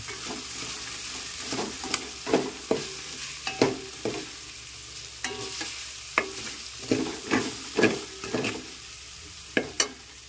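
Pork fat and liver being stirred in a sizzling frying pan, with repeated scraping clinks at an irregular rhythm over a constant soft crackle.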